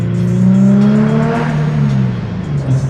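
An Infiniti G37 engine breathes through an ISR single exit GT exhaust, giving a loud, deep, throaty drone that rises briefly and then settles, close up with no talking.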